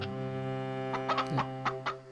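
Chickens in the game Rule of Rose give a few short clucks over a steady droning, humming background tone, each cluck close and fairly clear.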